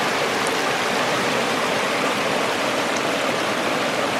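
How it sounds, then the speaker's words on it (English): A mountain waterfall spilling into a clear stream, a steady full-bodied rush of water that stays loud and unbroken throughout, with no voices. "Look at that waterfall."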